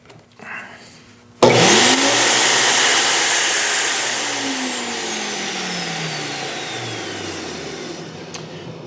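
An Earthwise electric wood chipper switches on with a sudden loud roar, runs at a steady high whine, then winds down with a falling pitch after its motor is cut, heard close up.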